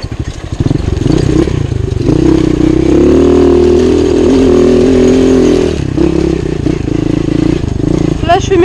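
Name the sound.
motocross bike MXR 78 riding laps on a dirt track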